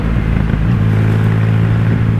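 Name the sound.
Triumph Rocket 3R motorcycle engine with aftermarket performance exhaust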